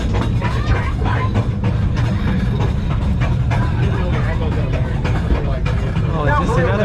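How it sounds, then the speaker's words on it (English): A funicular cable train on a hillside rumbles steadily with a constant low roar and faint rattling, continuous throughout, with voices talking over it. "Right to see a second train moving down."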